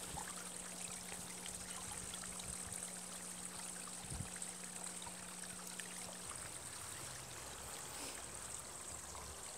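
A small waterfall in a garden pond spills water with a steady, soft trickling and burbling that runs unbroken and fairly faint throughout, with a low hum underneath for part of the time.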